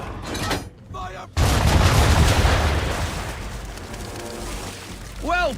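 Ship cannons firing a broadside in Assassin's Creed III, a sudden heavy boom followed by a long rumbling roar of gunfire that slowly fades, with a voice briefly heard before and after.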